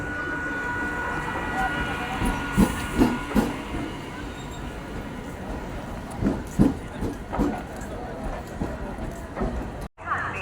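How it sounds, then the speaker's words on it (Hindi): A train rumbles and hisses at Ambala Cantt railway station, with repeated clanking thumps from passing wagons and a steady background roar of station ambience. "यहाँ रेलवे स्टेशन है"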